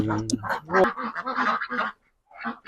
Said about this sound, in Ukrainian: Це такі качки